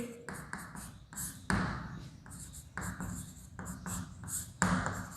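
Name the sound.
writing an equation by hand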